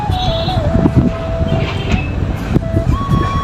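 A train runs along a railway track with a steady rumble and clatter of wheels, close and loud, punctuated by sharp rail clanks and a sustained horn-like tone.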